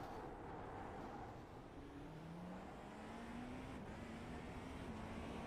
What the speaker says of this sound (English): So also just listen to these beautiful cars coming down the front straightaway.